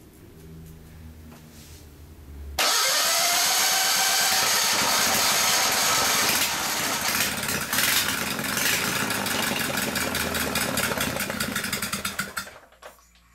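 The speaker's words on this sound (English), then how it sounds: "I'll crank it over with the throttle open." A go-kart engine is cranked over with the throttle open, a loud, steady mechanical churning that starts abruptly and runs for about ten seconds before dying away.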